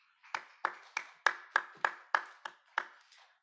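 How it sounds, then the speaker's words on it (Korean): A church congregation at a youth worship service claps together in encouragement, about ten crisp, evenly spaced claps that ring out clearly in the room and then fade, with no talking over them. "우리 격려의 의미로 함께 박수하도록 하겠습니다."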